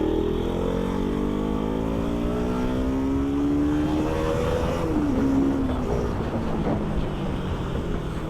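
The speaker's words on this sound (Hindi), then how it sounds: "इतने दिन बाद बाइक चला रहा हूँ, मेरे को ऐसा लग रहा है मेरी बाइक ज़्यादा पावरफुल हो गई है।" A motorbike rides along a road, its engine droning steadily and close with rising pitch as it accelerates through gears, under constant wind and road rumble.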